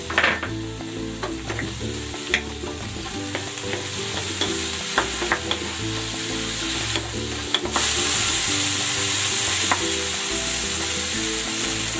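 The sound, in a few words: onion and tomato sizzling and stirred in a frying pan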